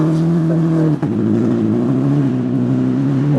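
A Mitsubishi Evo 9 rally car, built to Group A, accelerates hard on a gravel rally stage, its engine note loud and close, rising steadily with a brief break near the start as it shifts up.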